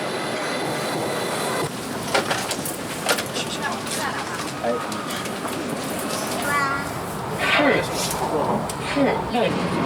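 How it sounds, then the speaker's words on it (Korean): A high-speed train bound for Nanjing pulls into a Chinese station, its steady rumble and whoosh filling the platform at moderate loudness, with brief squealing tones near the end and chatter from people nearby. "난징행 고속열차가 들어온다."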